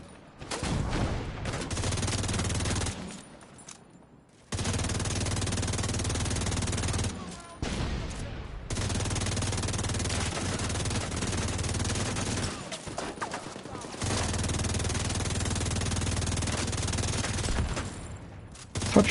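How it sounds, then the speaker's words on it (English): Heavy sustained gunfire in the video game Rainbow Six Siege, long loud bursts of automatic fire broken by short pauses, with a voice speaking briefly between volleys. "Stop shooting at me."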